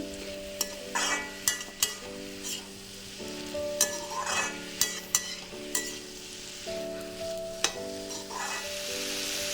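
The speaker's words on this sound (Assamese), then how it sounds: "এতিয়া মই দাইলখিনি দি 1 মিনিটমান ভাজি থাকিম।" Masoor dal frying in a pan with chopped potato and bottle gourd tips, a steady sizzle with repeated sharp stirring scrapes and clinks throughout.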